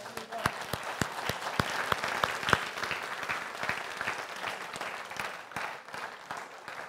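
A church congregation applauds steadily throughout, with sharp individual claps standing out early and then blending into a continuous, fairly close wash of clapping.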